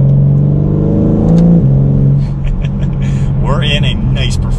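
A 2021 BMW M4 Competition coupe engine revs up loudly with its exhaust valve open, a deep, rumbling exhaust note, the pitch climbing and dropping, while someone talks over it.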